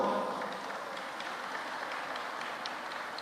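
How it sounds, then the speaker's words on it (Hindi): A large crowd at a Ram katha religious gathering claps to thank children, a fairly quiet, continuous patter of many hands that holds steady with no clear peaks. "एक बार इन सब बच्चों को ताली बजाकर धन्यवाद दो।"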